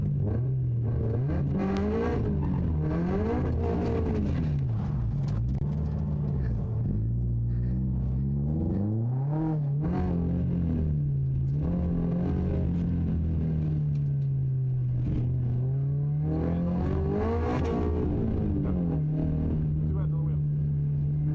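A drift car engine revs hard and repeatedly during a clutch-kick drift, pitch surging up and down with throttle blips and a deep rumbling idle between, loud and near.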